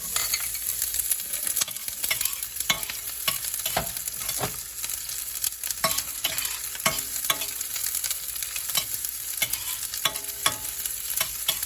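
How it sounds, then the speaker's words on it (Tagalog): Onions frying in a hot pan, with a steady loud sizzle and repeated spatula scrapes and taps against the pan throughout. "So mainit na ang ating kawali. Unahin ko na ang sibuyas."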